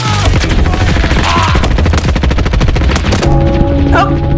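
Loud, rapid bursts of synthetic gunfire in a Roblox game rattle continuously, layered with game sound effects and a brief electronic tone near the end.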